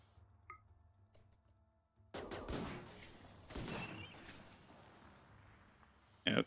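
A brief burst of gunfire in the colony game Rimworld, a few clustered shots followed by a steady rattle of battle noise, with one sharp report near the end.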